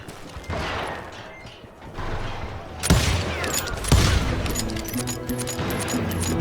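Gunfire in Call of Juarez: Gunslinger during a deputies' assault on a homestead: two sharp, heavy shots stand out over a busy, noisy background of battle clatter and rumble.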